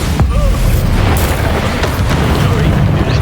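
Bombarda and Confringo spells go off in Hogwarts Legacy with deep, rumbling blasts and bursts, loud and dense. They are layered with spell effects and muffled combat noise that fill the whole stretch.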